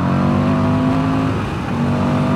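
A motorcycle engine revs hard and close, a loud steady throaty drone that dips briefly and then picks back up.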